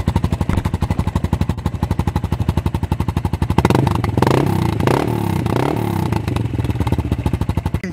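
Hero Karizma ZMR motorcycle engine, a loud close rapid chugging that climbs into a sustained high rev held against the rev limiter, stuttering and buzzing with no talk.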